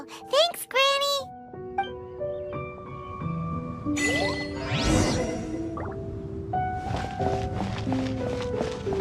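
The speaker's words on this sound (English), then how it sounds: "Indeed, this is the cleansing bell." A cleansing bell rings in the video game Genshin Impact, with clear, sustained chiming tones that overlap and fade. A few brighter dings and soft game effects sound around them, and a short burst of voices opens the clip.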